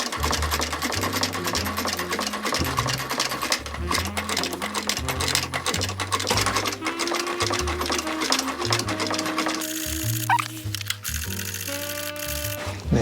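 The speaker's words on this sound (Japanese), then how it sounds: "3ミリぐらいのところを縫っていきたいと思います" A sewing machine stitches leather onto a shoe upper in quick mechanical bursts of rhythmic clatter, close and loud, pausing and restarting across the stretch with a brief higher whine near the end.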